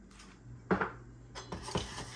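A spoon stirs vanilla into a homemade ice cream base in a pot, producing a few sharp metallic clinks and scrapes against the pot over a faint background hum.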